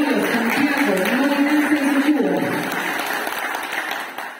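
A crowd at a beekeepers' gathering in Morona Santiago applauds with steady, fairly loud clapping while a person speaks over it in Spanish, and the clapping fades toward the end.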